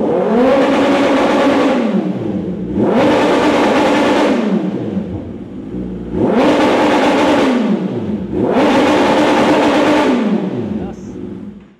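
A 2023 Kawasaki ZX10R with an Austin Racing exhaust revved hard four times in a row, each blip climbing to a loud raspy howl and falling back to idle, close and loud.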